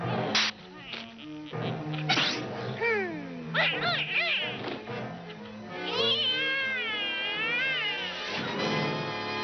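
A cartoon cat in an Italian-dubbed Smurfs scene gives a string of loud, wavering meows and yowls, some drawn out and sliding in pitch, over music and sound effects.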